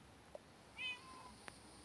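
A cat meows once in the video game Minecraft, a short, faint rising call in a quiet scene, with a soft click before it and another after.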